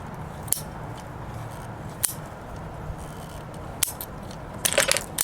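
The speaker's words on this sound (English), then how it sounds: "Just slowly ratchet that. Now it's locked in. So just push slowly." A ratchet PVC pipe cutter slowly works through a 42mm plastic plumbing pipe, giving a few sharp, isolated clicks and snaps spaced over a low background hum, ending in a brief cluster of crisp crunching snaps as the blade finishes.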